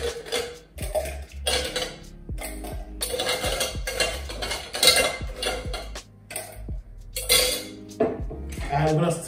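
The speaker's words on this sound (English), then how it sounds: "So we're gonna stir the drink for 17 to 20 seconds to get a perfect dilution for our cocktails" Ice clinks and rattles against a glass as a cocktail is stirred with a bar spoon, irregular close tinkling taps and scrapes, with speech in between.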